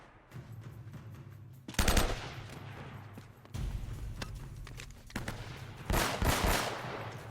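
Enemy gunfire in Uncharted: Drake's Fortune: loud, close bursts of rapid automatic fire break out in several volleys over a background of game noise, with no talk.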